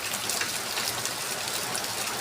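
Rain falls outdoors while a bicycle is cleaned, a dense, even hiss of drops pattering on surfaces that stays constant throughout, with no voices.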